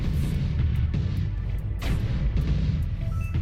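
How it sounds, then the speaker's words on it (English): Cannon fire in the side-scrolling shooter Drifting Lands: a slow, heavy weapon thumps out several deep booming shots at irregular intervals over a dense bed of game sound, with no speech. "the cannon's a little bit slower, but it deals a lot of damage when it can hit the targets"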